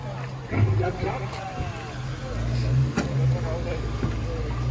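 The electric sunroof motor on a Camaro SS auction car whirs in a short mechanical run, then whirs again, under a background murmur of voices.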